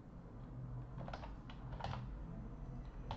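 Rapid typing on a computer keyboard with a few sharper keystrokes like an Enter press, close and steady over a low background hum.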